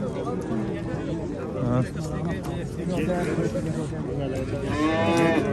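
Young bull calves at a busy livestock market in Jalal-Abad, Kyrgyzstan, lowing in repeated moos near and far over a bustling crowd, while people talk and bargain throughout.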